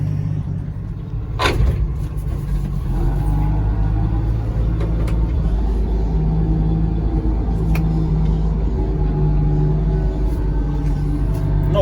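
An old International truck with a worn clutch, throttle and ignition backs up in reverse, its engine a steady loud low rumble throughout, with a brief sharp clunk near the start.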